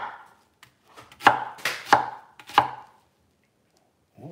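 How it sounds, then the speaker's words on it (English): A knife chops an onion on a cutting board in a short burst of about five or six sharp, close knocks, spaced a little irregularly, with silence before and after. "we cut up our onion"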